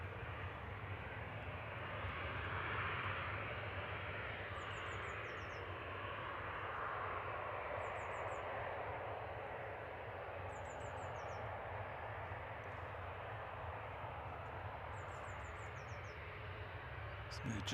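Aircraft departing Manchester Airport at evening give a distant, broad jet roar that swells and fades steadily, with faint repeated bird chirps over it.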